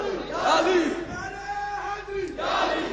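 A crowd chants religious slogans at a gathering, loud massed voices rising and falling in a few rhythmic surges over about three seconds.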